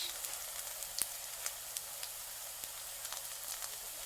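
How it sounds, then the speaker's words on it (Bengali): Jackfruit fritters frying in mustard oil give a steady, faint sizzle with scattered small pops and crackles throughout, alone with no voices. "আমি সর্ষে তেল দিয়ে কিন্তু এই বড়াটা ভাজছি এটা কাঠল দেয়া বড়া বানিয়েছি"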